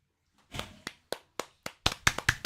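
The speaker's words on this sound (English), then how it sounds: "Amazing clapping, really." Bare hands clap about nine times in a loose, uneven rhythm, sharp and close, each smack ringing briefly before the next, with a quicker cluster near the end.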